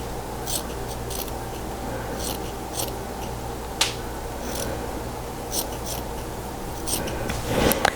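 Scissors snip away excess fabric on a 1930s-1940s style infant slip, a series of light, crisp cuts spaced irregularly over soft room noise, close and quiet, with a slightly louder rustle near the end.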